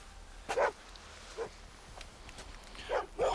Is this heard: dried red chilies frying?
no